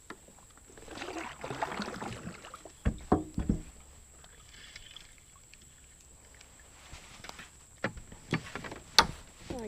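Paddle strokes and water splashes from a small bass-fishing boat turning in a tiny, narrow creek, with occasional knocks and a faint steady hiss in the background.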